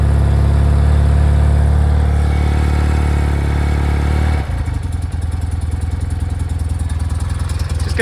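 A 1992 BMW R100GSPD motorcycle idles cold on half choke, a steady loud close boxer-twin thrum that dips partway through and settles into a slightly rougher, pulsing idle, with no talk.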